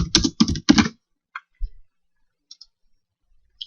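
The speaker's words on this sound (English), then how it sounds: "it helps if I can type" Three quick bursts of clattering computer keyboard typing up close, then a few scattered isolated key clicks and taps separated by silence.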